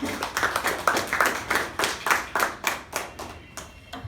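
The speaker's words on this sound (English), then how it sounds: "So can we have a huge round of applause for Toastmaster Sai Priya for that?" Clapping from a small group, with distinct rhythmic claps at a steady pace that gradually thin out and fade.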